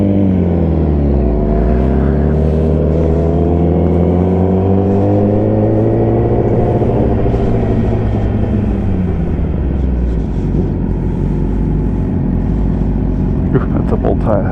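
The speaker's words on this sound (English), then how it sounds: "Got some boys that want to do a bit of a race on the road here" Cars racing along a road, engines loud and rumbling with rising and falling revs as they accelerate and pass by, a continuous roar throughout.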